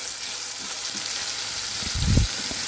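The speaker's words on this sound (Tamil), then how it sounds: "தக்காளி சேர்த்துட்டு நல்லா வதக்கி விட்டுக்கலாம்." Onion and tomato sautéing in a pan for beetroot sambar, a loud, steady hiss of frying with faint stirring scrapes and a low thump toward the end.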